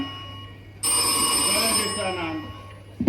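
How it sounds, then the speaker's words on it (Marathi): A telephone rings with a bright electronic trill at moderate volume that starts suddenly and stops after about a second. Quiet room noise surrounds it, and a voice begins at the very end. "अंकल फोन रिंग जाता"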